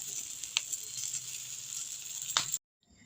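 Salted pigtail fries in a pot, a steady soft sizzle and crackle with a couple of sharp pops, ending abruptly as the lid closes and the sound is muffled.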